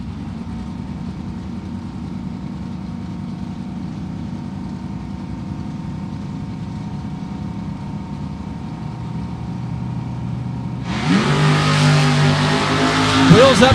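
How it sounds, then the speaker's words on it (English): Drag racing launch between a Camaro and a Heffler family Chevy II at the strip, engines idling at a low rumble before a sudden loud roar of throttle near the end, growing louder as the cars leave the line. "Wheels up start for Heffler, trying to run down Sheila Day."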